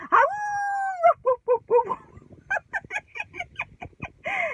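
A man imitates a dog, starting with a long howl then a run of short rhythmic barks and yelps, close and loud.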